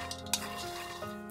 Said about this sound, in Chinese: 热锅里倒入花生米，炒熟捣碎